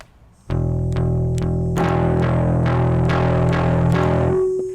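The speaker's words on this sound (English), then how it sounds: "you can already hear what this pedal does" Electric guitar through an effects pedal: a sustained, buzzing low chord with repeated picked strums, thick and steady, no voices.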